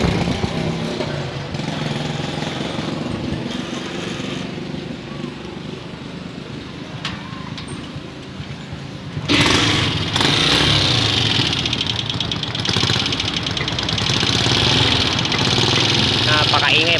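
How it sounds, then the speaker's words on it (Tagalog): A noisy Honda TMX motorcycle engine runs continuously close by with a rough mechanical rumble and rattle, growing louder and harsher partway through as it is revved; someone talks over it at times. "Customer na tayo, maingay ang motor,"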